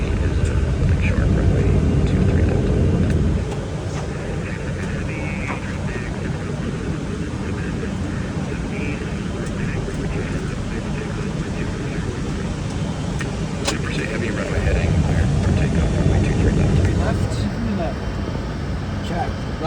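Engines of a Douglas DC-8 jet, a Samaritan's Purse aircraft, drone steadily before takeoff, a loud continuous broadband roar and rumble heard from inside, with a slight drop in level early on and no pauses.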